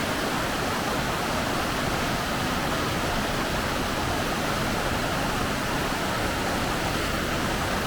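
Mississippi River water rushes steadily over a dam, a dense, even roar with no pauses, heard alone and at moderate loudness.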